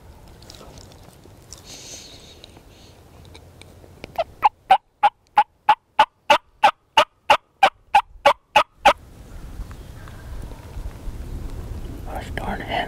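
A rapid series of about a dozen sharp, evenly spaced wild turkey hen calls rings out loudly, bracketed by soft background noise and faint whispering.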